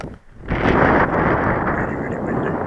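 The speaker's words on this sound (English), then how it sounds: "really windy" Strong wind buffets the microphone on an open hilltop in a park, a steady loud roar that surges in after a brief quieter moment and keeps blowing without a break.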